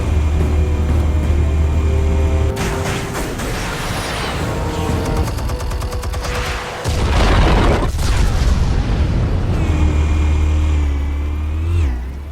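Explosives detonate in Batman: The Telltale Series, loud booming blasts and rumbling roars that fill the whole stretch, with a second heavy burst partway through and a fading tail at the end.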